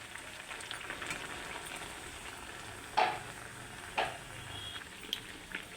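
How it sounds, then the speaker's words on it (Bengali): Three-layer carrot and beetroot paratha frying in hot oil, giving a steady soft sizzle with a few sharper pops and crackles as it cooks, with no voices. "এইবার তেলটা গরম হয়ে গেছে, এবার আমি আস্তে করে দিয়ে দেবো।"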